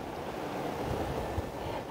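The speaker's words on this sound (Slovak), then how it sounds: "aký je tu vetrisko." Strong wind blows outdoors by a fir tree, a constant broadband roar buffeting the microphone with a few gusts and no speech.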